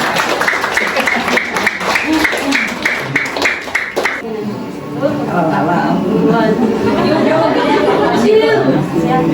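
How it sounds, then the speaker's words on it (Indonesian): Clapping at a birthday gathering, rhythmic claps for about four seconds amid chatter, then giving way to a crowd of voices talking and moving nearby. "Oke, tepuk tangan dulu langsung di sini ya Pak."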